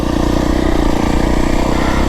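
A Beta 350RR X-Pro dirt bike engine runs steadily nearby on a trail ride in the Santa Rita Mountains, with a constant throbbing drone and no voices.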